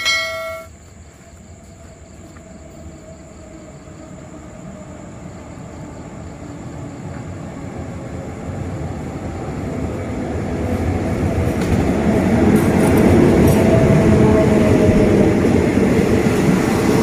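Hitachi 4513 diesel locomotive hauling train 167 into Ratchaburi station in Thailand, a brief tone at the start followed by a building rumble of engine and rolling wagons that grows louder as it draws near.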